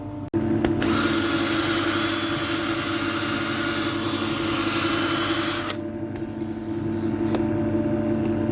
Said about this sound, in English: Just a little bit more sanding here, and we will be good.